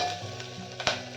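Curry leaves dropped into hot oil in a pan while cooking a South Indian meal give a steady close sizzle, with a brief sharper crackle burst near the end.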